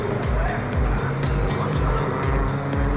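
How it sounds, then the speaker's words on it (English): Racing cars, among them a VW Polo and a Mk1 Audi TT, brake hard into the Druids hairpin at Brands Hatch. Engines roar loudly and one car after another passes in rapid succession. "my position on the outside of Druids captured the cars thundering into the hairpin"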